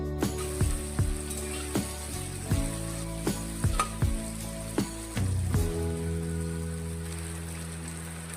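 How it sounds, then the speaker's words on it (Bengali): Tomato and onion frying in oil for a wedding-style mutton kosha give a steady close sizzle broken by a series of sharp spatula clicks and scrapes, then settle into an even hiss with no talking. "টমেটো পেঁয়াজের সাথে ভেজে নিতে হবে।"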